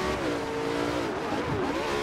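A car driving in Forza Horizon 2, steady engine drone with rising and falling revs heard from the cockpit, loud and continuous without any talk.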